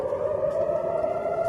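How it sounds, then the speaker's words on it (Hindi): Air raid sirens in Tel Aviv hold a continuous, even wail, distant and moderately faint, with a low hum of ambient noise underneath. "तेल अवीव में हर तरफ से सायरन्स बज रही हैं, एक के बाद एक दूसरी सायरन।"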